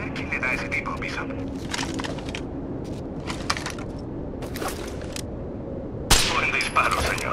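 A single sharp gunshot in the video game Tom Clancy's Rainbow Six Vegas 2 cracks out near the end, over voices and a busy game background.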